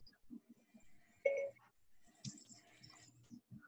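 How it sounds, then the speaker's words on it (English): A phone's Siri activation chime sounds once, a short bright electronic tone rising briefly over a quiet room with faint murmuring around it. "it looks like it activated Siri, too, on my phone"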